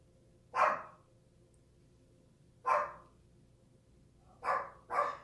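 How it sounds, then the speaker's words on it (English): A pet dog barks by the front door of a home, giving four sharp, fairly close barks: one, a pause, another, then a quick final pair, with quiet room tone between. "by the front door where he enjoys barking at everything"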